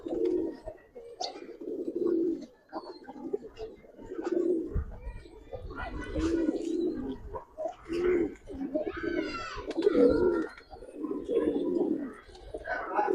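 Giribaz pigeons coo in low, repeated throaty phrases close by, overlapping one another steadily, with occasional chirps and some quiet human voices mixed in.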